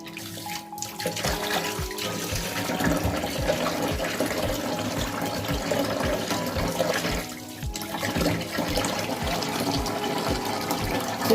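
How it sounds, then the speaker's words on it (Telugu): Water splashes and sloshes steadily as fish are rinsed by hand in a bowl of water in a home kitchen, a close, continuous swishing with rhythmic pulses from the scrubbing motion and no talking. "మళ్ళీ కడిగాను చూసారా ఎంత మురికి వచ్చిందో"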